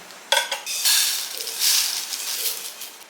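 Roasted lentils and crisp curry leaves for paruppu podi spill from a pan onto a plate in a quick dry rattling pour, close and clear, with light scraping and clinks of metal.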